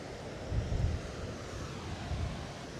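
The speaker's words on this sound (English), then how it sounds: "Look at this, beautiful ocean." Ocean surf at Coolangatta with wind: a broad, steady wash of waves with two low swells of rumble, buffeted by wind noise, no voices.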